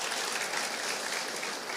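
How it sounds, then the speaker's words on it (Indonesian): Applause at a church service, a faint, steady wash of many hands clapping from a congregation, sustained and fairly distant, with no voices over it. "Kasih tepuk tangan bagi nama Tuhan."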